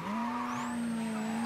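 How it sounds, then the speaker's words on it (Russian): A car in the video game Mafia III skidding with a sustained tire squeal over a steady engine tone, loud and close for about a second and a half. "Блин, тачка чересчур резвая для меня."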